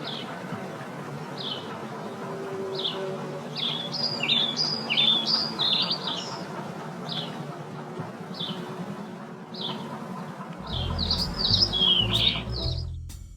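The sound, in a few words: bird sounds slowed to 3/4 speed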